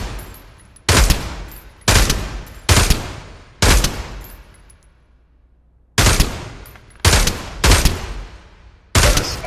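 Gunfire at targets in the VR game Pavlov: eight sharp, loud shots, spaced roughly a second apart, with a pause in the middle, each ringing out briefly before the next.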